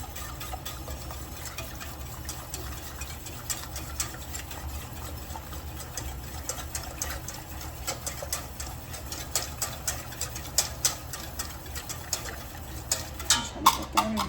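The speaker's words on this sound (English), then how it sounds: "I do need to put these eggs in, and I need to whisk them up really quickly" Eggs being whisked into simmering milk in a pot, with a fast, rhythmic ticking of the whisk over a low background hum that grows louder and sharper toward the end.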